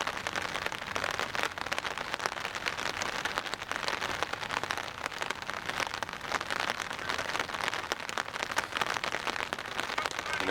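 Steady rain falls on a golf course crowded with umbrellas, a dense, even patter with faint crackling drops continuing throughout, with no voices.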